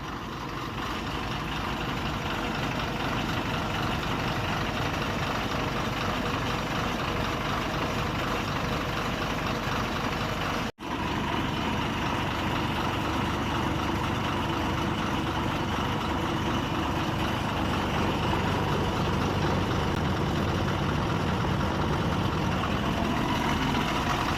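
A 14-wheel lorry's heavy diesel engine idles steadily before a trip, a loud, continuous low rumble with one brief dropout midway and no talk over it.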